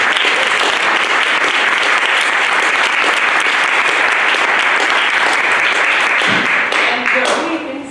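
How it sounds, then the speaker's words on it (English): Forum audience gives a round of applause for the panelists at a scholarship and activism launch event, a loud sustained roar of clapping that thins toward the end as a voice begins speaking. "maybe a round of applause for our panelists"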